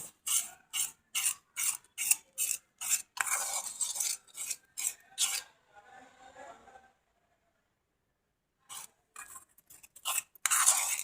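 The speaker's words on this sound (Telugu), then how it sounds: "కొద్ది కొద్దిగా డికాషన్ వేసుకుంటా ఫస్ట్ కలుపుకోవాలి ఉంటలు లేకుండా బాగా కలుపుకోవాలి" Indigo powder being stirred with a herbal decoction into a thick hair dye paste, giving a run of quick rhythmic scraping and rubbing strokes in bursts, a short quiet pause, then more stirring strokes.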